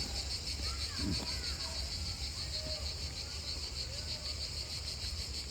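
Crickets chirp in a steady, high, continuous drone at night, faint and even throughout with soft scattered background noise.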